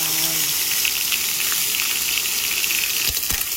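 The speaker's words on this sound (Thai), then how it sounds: "ผัดพริกกับกระเทียมให้หอมก่อนเลยค่ะ" Chili, garlic and surf clams stir-fried in a pan give a continuous close sizzle with a few clinks of utensils near the end, with no talking.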